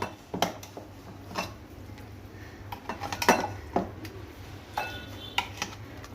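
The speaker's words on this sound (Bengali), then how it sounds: "বাটিতে ঢেলে নিচ্ছি।" Mutton curry, cooked without oil, is poured and ladled into a bowl: a series of sharp metallic clinks and scrapes of a spoon against pot and bowl, close and fairly loud, with quiet kitchen background between the hits.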